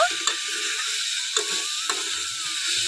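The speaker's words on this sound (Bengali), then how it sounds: "খুব ভালো করে মশলার সঙ্গে পেঁপে গাছ আর আলুটা মিশিয়ে নেব" Papaya stem and potato with spices stirred in a pan: a few sharp scrapes and clicks of a utensil over a steady faint sizzle, close and moderately loud, no voices.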